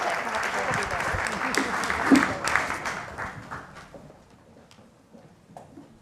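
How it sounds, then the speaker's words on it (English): Audience applause closing a panel discussion at a White House rare disease forum, a dense wash of clapping that peaks early and fades over several seconds. "please join me in applauding our panel."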